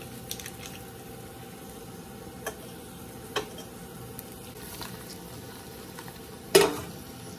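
Broccolini and trumpet mushrooms sweating in butter in a pan make a steady, quiet sizzle. A few soft clicks and one sharper clatter near the end rise above it.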